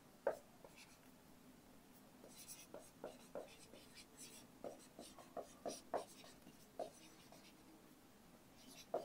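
During a Bengali physics lesson on long straight conductors, chalk or marker taps and strokes on a board come in irregular, fairly close bursts, with soft speech faintly underneath.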